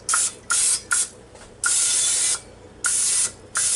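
Several short hissing bursts from a cooking spray can, some quick and some held longer, close up with brief pauses between them.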